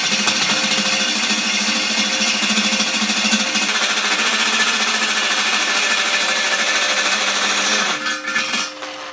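A power drill boring a hole through the steel of a propane bottle being made into a forge, a loud, steady, harsh grinding whine held for several seconds before it winds down near the end.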